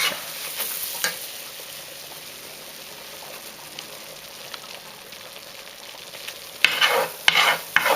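A flour-and-fat roux for gumbo being stirred in a pot, a continuous close sizzling hiss with scraping stirs, growing louder with a few sharp clatters toward the end.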